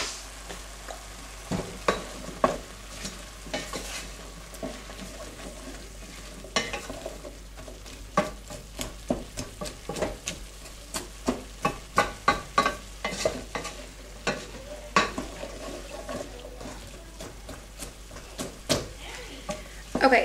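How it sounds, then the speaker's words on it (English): Onion stirred into ground meat sauce frying in a pan, a continuous low sizzle under repeated rhythmic spoon scrapes and taps that grow busier toward the end, with faint talk in the background. "you're going to add in your onion and go ahead and stir that in"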